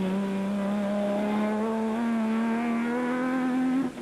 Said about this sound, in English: Anthony Taylor and Robin Houghton were piloting their Toyota back to the paddock, going quickly at the same time.